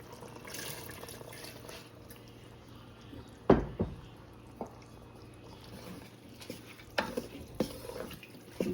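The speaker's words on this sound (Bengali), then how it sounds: "এখন আমি মিক্স ডালটা ঢেলে দেব।" Mixed lentils are tipped into a pot of simmering meat for haleem: one soft, quick splash and clatter, then faint scattered drips and stirring sounds, all quiet.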